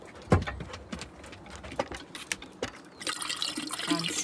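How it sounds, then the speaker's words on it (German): Cold filtered water is poured for making water kefir, starting as scattered splashes and drips and then becoming a steady, close pour into the vessel. "dann kaltes Wasser dazu und natürlich hübsches gefiltertes Wasser"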